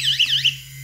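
A water leak probe sensor alarm sounds with loud, piercing warbling electronic beeps in quick succession, then trails off over a steady low hum.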